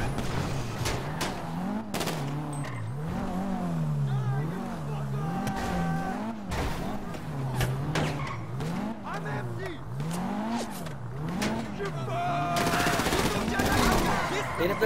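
Gunfire in GTA Online, many short sharp broadband bursts scattered through the scene over a continuous revving car engine and game sounds, with someone talking throughout.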